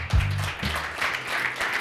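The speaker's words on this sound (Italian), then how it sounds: "un applauso" Short burst of applause for an award recipient at a cycling trophy ceremony in Vittorio Veneto, a crowd clapping at moderate distance over about two seconds, mixed with some low murmur and a brief thump at the start.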